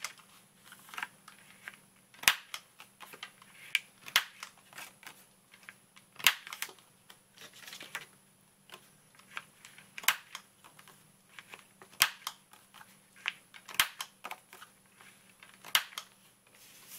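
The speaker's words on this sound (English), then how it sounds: "I forgot to round off my corners." A corner rounder punch trims the corners of a handmade Christmas card, giving a series of sharp, close clicks and snaps scattered among soft paper handling sounds in a quiet room.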